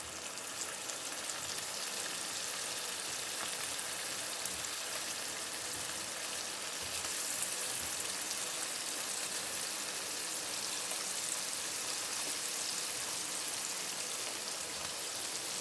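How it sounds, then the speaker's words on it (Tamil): Paneer pieces fry in a pan with a steady, dense sizzle like heavy rain, constant and fairly loud throughout with no talk. "பன்னீரை அதை வந்து இதில் போட்டு ஃப்ரை பண்ணிக்கலாம்"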